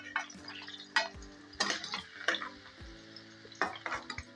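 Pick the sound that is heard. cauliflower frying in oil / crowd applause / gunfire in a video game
cauliflower frying in oil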